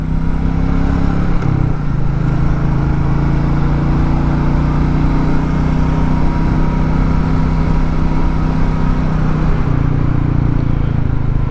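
A Royal Enfield Meteor 350 motorcycle engine cruises uphill with a steady, close, low thrumming drone that holds an even pitch throughout, with only slight shifts in tone and no talking.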